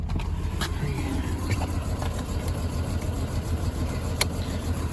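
An 80 series Toyota Land Cruiser engine runs as a steady, low, close rumble with a few faint clicks and knocks on top; no voices are heard.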